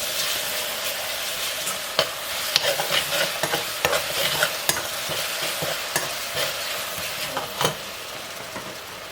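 Ginger fried in hot oil after dried prawns for a pickle, a loud, steady hiss crossed by quick repeated scrapes and taps of a stirring spoon, close up and without voices.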